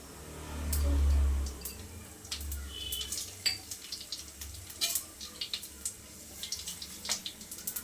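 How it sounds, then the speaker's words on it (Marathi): Whole spices and cumin fry in hot oil for soya pulao, giving faint, scattered crackles and pops over a low hiss. A brief low rumble comes at the start. "आपण घालूया खडे मसाले एक दोन मिनटं आपल्याला तेलामध्ये फ्राय करून घ्यायचे"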